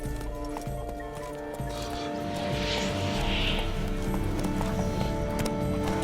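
Horse hooves galloping in The Witcher 3, a rapid continuous clip-clop close by that builds slightly over a few seconds, layered with game music and ambience.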